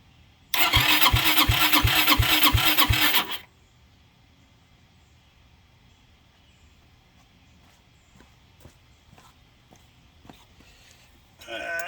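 A 2006 Zhejiang Kangdi 250cc kart engine being started with the throttle held open: a loud rhythmic cranking burst for about three seconds, then a faint idle-like hum with small clicks and handling noises, and a brief loud burst again at the end.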